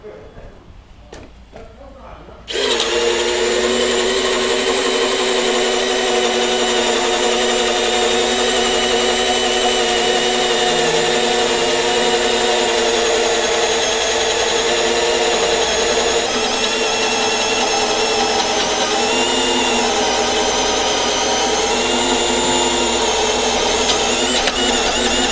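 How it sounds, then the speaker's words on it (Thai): A Bosch GSB 185 18V cordless drill, switched from hammer to plain drill mode, bores into a workpiece. After a quiet start it kicks in with a loud, steady high whine that holds for over twenty seconds. "เดี๋ยวเปลี่ยนจากกระแทกมาเป็นสว่านตรงนี้นะครับอ่ะนี่เราก็เจาะลงไปได้เลยนะครับ"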